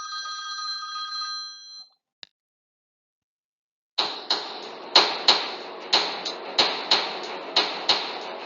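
A telephone rings with a sustained electronic tone that cuts off, a brief click, then a string of sharp ticking or clacking bell strikes repeating at a steady rhythm, close and fairly loud.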